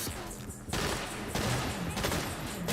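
Dense bursts of gunfire in a Saints Row combat fight, rapid volleys of shots crowding one another, loud and continuous with brief shifts in intensity.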